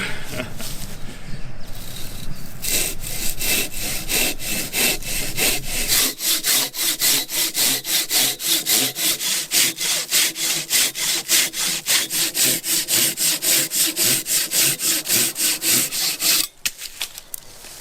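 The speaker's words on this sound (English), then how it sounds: "With the Silky saws, I've always found that they cut so straight and true." A Silky KATANABOY 500 hand saw cuts through wood in fast, regular back-and-forth strokes, loud and close, with each pass rasping rhythmically until the cut finishes and the sawing stops.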